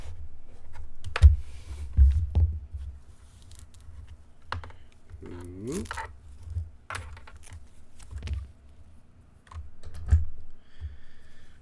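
Computer keyboard typing in bursts of clicks and heavier key presses scattered over several seconds, close and fairly quiet, with a brief vocal exclamation partway through.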